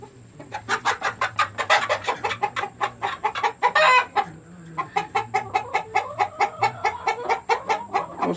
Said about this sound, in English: Come see our chickens.